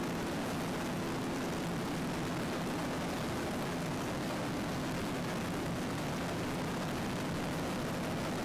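An MTI offshore racing powerboat runs over bumpy water at a Destin race, giving a continuous, loud, broad roar that stays even for several seconds without a distinct rise or fade.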